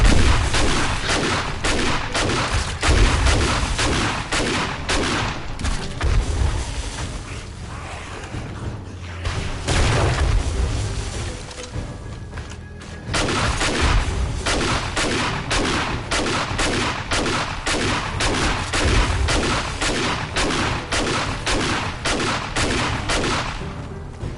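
Shotgun shells cooking off in a concrete base in the game 7 Days to Die: dense, rapid strings of loud bangs, breaking off briefly midway before another long, steady run of rapid-fire pops.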